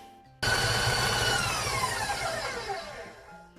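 An electric hand mixer creams butter and sugar in a bowl for a Jamaican black rum fruit cake, starting abruptly with a steady loud whir that slowly winds down toward the end.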